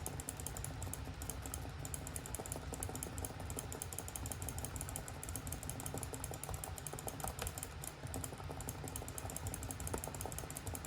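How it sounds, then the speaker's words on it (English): Rapid, continuous mouse and keyboard clicks rattle in a dense, steady stream at a Diablo 4 game session, faint and even throughout with no pauses. "as you can see by my mouse clicks, I am spamming everything."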